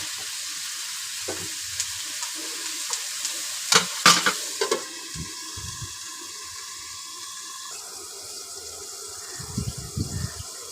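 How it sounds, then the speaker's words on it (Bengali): Prawns and potatoes frying in a pan make a soft sizzle. A cluster of louder stirring clanks comes near the middle and scattered scrapes come toward the end, with no talk. "কিছুক্ষণ নেড়ে চেড়ে 2-3 মিনিটের জন্য ঢেকে দেব।"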